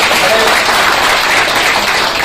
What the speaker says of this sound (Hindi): इनके लिए जरा तालियां बजा दो